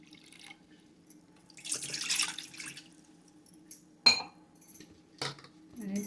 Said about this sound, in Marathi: इथे आता आपण पाणी घेऊया. हा 1 कप पाणी घेऊया.